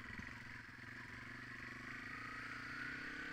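A small Yamaha TW200 motorcycle rides along a road with a steady, faint engine drone and wind noise and no talking.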